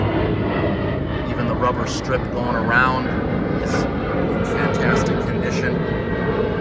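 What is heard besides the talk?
airplane flying overhead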